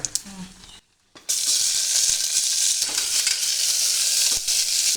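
Fennel seeds and a dried red chilli fry in hot oil with a steady, loud, close sizzle and hiss that begins after a brief quiet gap, with faint stirring clicks.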